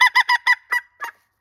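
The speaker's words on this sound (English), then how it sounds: "if you want a really great turkey call and you want to try something new, try my new tube flute" A turkey call blown on a tube flute gives six quick, honking yelps in a row, loud and close, the last two spaced out and fading slightly.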